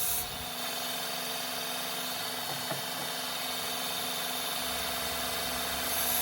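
A belt grinder fitted with a 60 grit belt runs steadily while goat hoof trimmers are sharpened against it. The whine and grinding rasp are continuous and fairly faint, with light scraping contact partway through and no speech.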